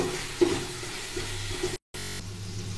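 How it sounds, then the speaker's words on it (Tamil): Tomatoes soften in hot oil for a Chettinad-style seeraga samba mutton biryani, giving a steady, close sizzle with a brief clatter of stirring and a short break in the sound. "தக்காளி நல்லா மையா வதங்கிட்டு நல்லா வதக்க விடணும்."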